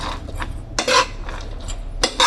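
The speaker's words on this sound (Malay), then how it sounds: "So kita akan gaul sebati." A metal spatula scrapes and clatters against a pan while red fried rice is mixed with anchovy powder, salt and seasoning, in irregular close-up bursts of scraping with quieter stirring between them.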